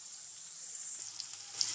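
Onions for a Tamil fish curry fry in a pan with a continuous soft, high sizzle, close and steady, with a few faint pops toward the end.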